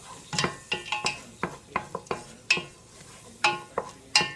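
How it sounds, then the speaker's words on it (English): Garlic being sautéed in a pan for broccoli and cheddar soup, heard as repeated sharp utensil scrapes and clinks against the pan, roughly a dozen irregular strokes, close and fairly quiet with no talking. "Our garlic. We're going to saute them up for just a few minutes"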